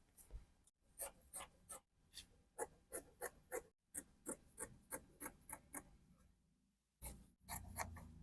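Scissors cutting fabric along a pattern waistline, a regular series of crisp snips, about a dozen evenly spaced close-up cuts, a brief pause, then a few more snips with some rustling at the end.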